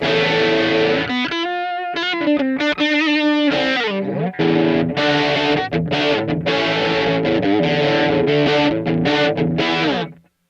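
Heavily processed electric guitar through an Ibanez PDS1 pedal with a warbling, shimmering chorus effect and some distortion, playing sustained chords and quick riffs continuously with no talking.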